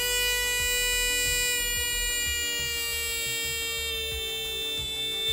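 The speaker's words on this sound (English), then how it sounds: "So I'm connecting now the resistor to the buzzer and the battery also to the buzzer." Electric buzzer wired in a simple circuit with a resistor and battery, giving a continuous shrill electronic tone that drones steadily, loud and unbroken, with no voices over it.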